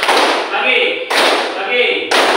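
Children in a classroom play a rhythmic clapping game, striking hands together in unison about once a second, three sharp, loud group claps each trailing into chanted voices.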